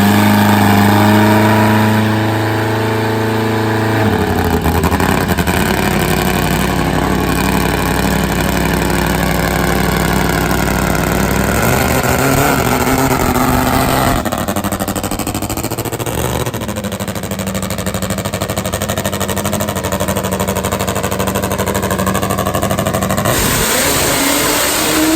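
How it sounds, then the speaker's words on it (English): A Top Fuel nitro drag motorcycle engine revs loud and close, its deep harmonic roar climbing and falling through repeated blips and a long sustained pull, with no voices over it. "What an awesome sounding Top Fuel motorcycle this is."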